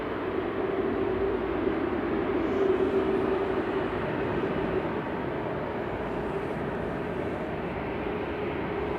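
A Ryanair airliner departs Manchester Airport, its jet engine roar a steady, broad rumble heard from a distance that holds evenly throughout without talk.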